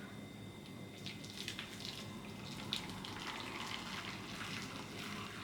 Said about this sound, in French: une fois que votre eau elle est chaude, tac, vous la versez en fait entre les yaourts dedans, dans la yaourtière là.